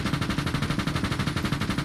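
Rapid sustained automatic gunfire in a tactical military video game, a loud, even stream of close shots with no pauses.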